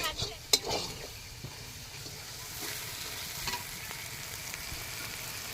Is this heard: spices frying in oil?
yes